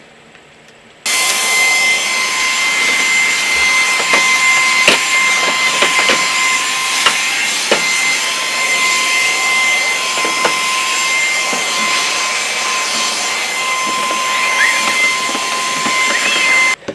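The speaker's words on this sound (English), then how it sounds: "so very cool vacuum cleaner" A vacuum cleaner, used to clear lint from a sewing machine, starts abruptly and runs loud and steady, a constant whooshing roar with a high whine, continuing to the end.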